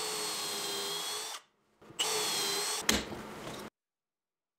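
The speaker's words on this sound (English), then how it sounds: "To attach all the supports together, I used a bunch of pocket hole screws." A power drill drives pocket hole screws into wooden shelf supports for a pantry, with two close, loud whirring bursts separated by a short pause, then silence.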